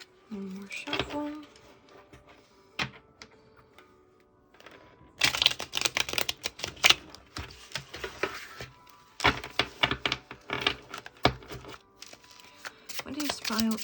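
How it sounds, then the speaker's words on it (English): Tarot cards are shuffled in quick bursts of dense riffling clicks and flutters, starting sparse then growing busier and louder, with brief pauses between shuffles and occasional talk. "One more shuffle."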